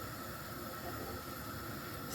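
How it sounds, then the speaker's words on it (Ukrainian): Water boils in a pot for cooking eggplant, with a steady, soft, even hiss that never lets up, and no voices. "Закипіла в мене вода."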